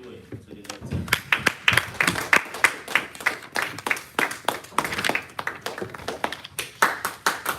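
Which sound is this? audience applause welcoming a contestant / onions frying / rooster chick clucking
audience applause welcoming a contestant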